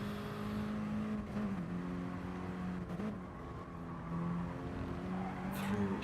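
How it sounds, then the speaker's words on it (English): Mini Cooper race cars in a Cooper Cup round at Brands Hatch slide through fast turns, their loud engines droning and shifting in pitch as revs rise and fall, with hints of tyre squeal. "you can see Dusky's Mini sliding all over the place through these fast turns"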